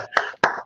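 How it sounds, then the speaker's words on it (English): A few people clap briefly for a guest: three short bursts of hand claps, near and moderately loud, with gaps of silence between them. "You gotta give him applause."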